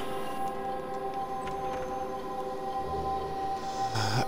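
A steady electronic siren tone in a video game drones continuously with layered pitches, a synthetic alarm sound holding level throughout with slight wavering.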